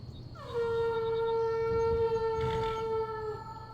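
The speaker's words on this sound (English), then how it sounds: "The horse teleportation sound." A sustained tonal whoosh with a rising sweep and held harmonic ring marks a horse teleporting in the video game Skyrim, loud and alone for about three seconds.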